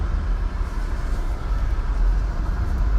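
A 2019 Buick Envision with a 2.0-liter turbo engine accelerates on gravel, giving a steady, loud rumble of engine and tire noise heard close from inside the cabin, with no talk.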